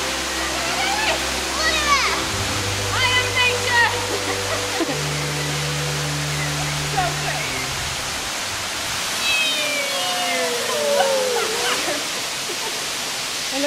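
Henrhyd Waterfall in Wales gives a steady, broad rushing roar of falling water that holds through the whole stretch, with people talking and laughing over it nearby.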